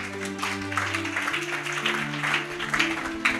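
A church congregation applauding to acclaim the Lord during a Bible teaching: steady, dense clapping from many hands, close and sustained throughout, over a faint tonal background.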